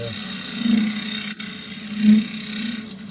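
Wood turning on a lathe with a 3/4-inch square end scraper, its edge slightly radiused: a steady close whirring drone that swells twice as the tool bites into the spinning wood.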